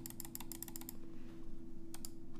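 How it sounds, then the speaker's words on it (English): Mouse clicks sound right at the level of a Mode Sonnet keyboard: a rapid run of crisp, close clicks, then a pause, then a couple more, all quiet over a faint steady hum. "This is how loud the mouse clicks are right at keyboard level"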